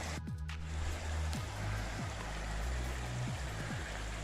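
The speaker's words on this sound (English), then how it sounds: "fixing to cross the creek here in a second" A creek runs steadily in wooded hill country near old coal tailings, a broad continuous rushing wash of water close by, with a few soft low thumps like footsteps or handling.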